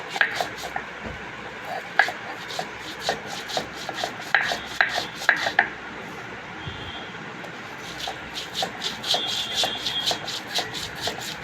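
Chicken bharta being mashed together with onion, garlic, green chilli and salt: close, repeated rubbing and scraping strokes, some sharper crunches, in an irregular but steady rhythm.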